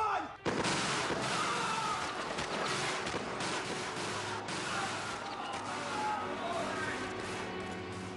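A burst of rifle gunfire from a firing squad, many overlapping shots cracking together in a dense, chaotic volley that carries on loudly throughout.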